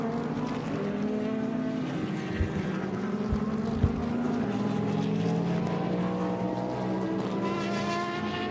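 IMSA race cars at speed during a race, a sustained layered engine howl with several overlapping tones that shift in pitch as the cars pass, plus a couple of brief low thumps.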